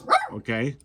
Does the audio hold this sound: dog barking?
yes